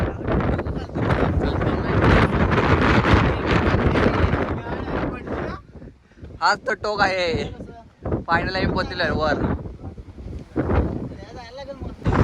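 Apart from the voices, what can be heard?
strong wind on a hilltop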